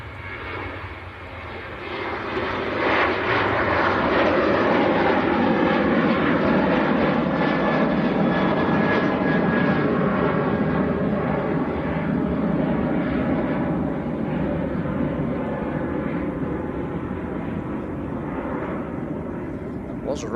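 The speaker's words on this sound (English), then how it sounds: "Comes Ryanair getting airborne." Ryanair jet airliner taking off from Manchester Airport, a loud, broad roaring rumble that swells within the first few seconds and holds steady and powerful throughout, heard from a moderate distance.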